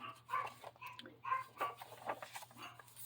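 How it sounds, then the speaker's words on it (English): Several dogs barking and yipping indoors in short, scattered bursts, faint and somewhat distant over a low steady hum. "Excuse my dogs, I'm sure you can hear them."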